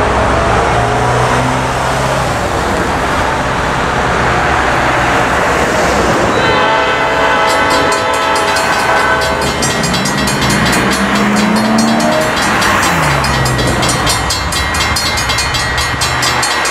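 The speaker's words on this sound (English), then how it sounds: "got an NS train 192 coming into Columbia, South Carolina with lead unit NS" A Norfolk Southern freight train, NS 192 led by NS 4002, rumbles past in Columbia, South Carolina, with loud, sustained multi-tone horn blasts over the steady roar and clatter of the cars.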